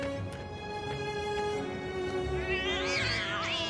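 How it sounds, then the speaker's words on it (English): Cats meow in Final Fantasy VII Remake, with drawn-out, wavering cat calls rising near the end over a steady tonal game music hum. "Kitties."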